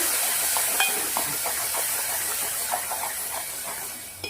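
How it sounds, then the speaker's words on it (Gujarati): Soft, steady hiss and sizzle of green masala paste roasting in a pan, with faint scattered pops and a few light stirring scrapes. "હવે પેસ્ટને સરસ શેકી લેવાની છે."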